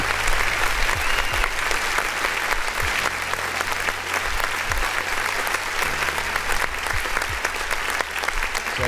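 A crowd's applause, dense and steady, with continuous clapping at even loudness throughout and a few low tones sounding beneath it.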